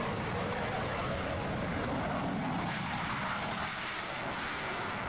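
Broad, roaring aircraft engine noise from a Eurofighter Typhoon multi-role fighter jet in flight, a dense, steady loud rush filling the whole clip with no breaks.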